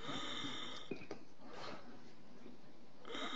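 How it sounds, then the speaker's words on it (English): Someone gasps for air in a dungeon cell scene of a game, with ragged, wheezy breaths and snorting intakes over a steady background hum. "Somebody's trying to gasp for air."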